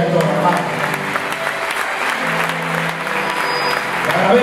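Church congregation clapping during a pastor's Saturday sermon, a loud, continuous patter of many hands with faint voices and a low hum beneath it.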